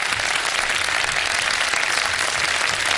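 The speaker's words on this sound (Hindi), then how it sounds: "ऑडियंस अगर तालियां बजाएं" Studio audience applause on a Ramadan iftar television show, a dense, steady wash of clapping that stays loud and even for the full three seconds with no voices over it.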